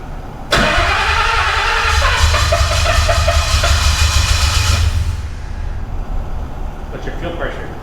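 A Ford Coyote V8 swapped into a 1957 Fairlane cranks and fires abruptly, then runs loud and close in a rough idle with a rev before cutting out, and people talk nearby.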